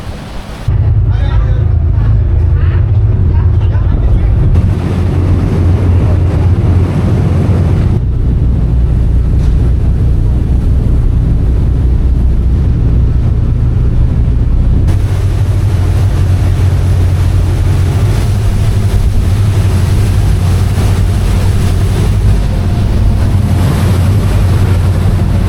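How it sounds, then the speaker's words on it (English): A ferry crossing rough sea water back to the Mexican mainland from near Tulum, heard as a constant heavy rumble of engine and churning waves with strong wind buffeting the microphone throughout. "Just on the ferry here, and it is a wild ride back over to the mainland."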